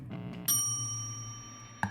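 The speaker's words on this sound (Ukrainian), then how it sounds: "Дзвони." A bright bell rings twice in a video game: a clear ding with a long, sustained ring, followed by a second, quieter strike near the end, with no talk over it.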